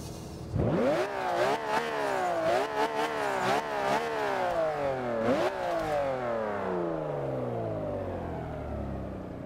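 A loud video-game 1954 Jaguar XK120 engine revs up with its exhaust fully opened and climbs through repeated gear shifts, each pull rising in pitch before the exhaust settles and fades.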